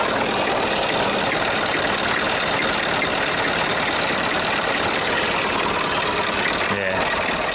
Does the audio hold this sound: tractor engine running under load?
yes